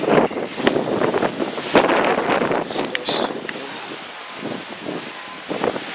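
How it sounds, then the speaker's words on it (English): Strong gusts of wind buffet the microphone in loud rushing bursts outdoors by a parking lot, with rustling noise and occasional voices underneath. "It's windy as shit."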